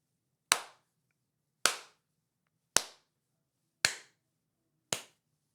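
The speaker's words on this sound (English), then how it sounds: "That's not a good clap." Five single hand claps, evenly spaced about a second apart, each sharp, close and crisp with a quick decay into near silence.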